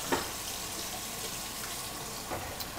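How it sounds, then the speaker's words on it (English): Garlic cooking slowly in oil in a pan on a stovetop, giving a steady, soft sizzle and gentle bubbling with a few faint crackles, continuous and fairly quiet with no talking. "roasting some garlic on the stovetop. No deep frying though. Just like a slow kind of boil"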